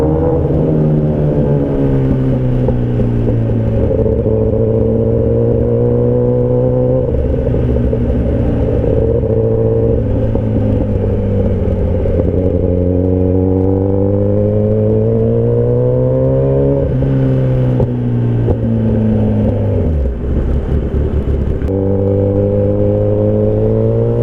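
A Kawasaki Ninja ZX10R superbike engine revs loud and close, its note climbing and falling through several sustained throttle blips with steady harmonic rumble and no talk.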